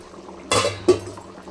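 Sambar boiling in a pot, heard as two brief bubbling bursts close together, the first louder and longer, against a quiet kitchen background.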